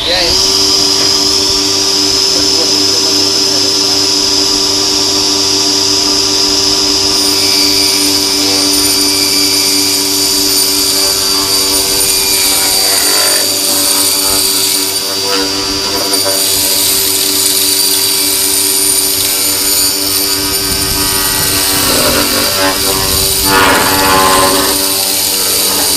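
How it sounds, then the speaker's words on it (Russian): A circular saw whines loudly and continuously, its steady high tone shifting slightly as it cuts through extruded polystyrene foam board, with faint talking under the noise. "Переходим к циркулярке."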